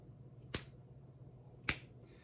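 Two separate finger snaps, sharp and close, about a second apart, in an otherwise quiet room with a faint background hum.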